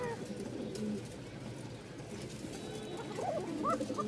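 Giribaz pigeons from Rajshahi coo softly in a few low rolling calls near the end, set against a steady, busy background hum of outdoor noise.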